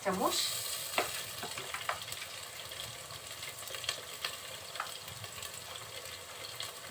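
Moong dal being stirred and fried in a pot, with a steady sizzle and a continuous hiss under frequent scraping and clinking strokes of the spoon throughout.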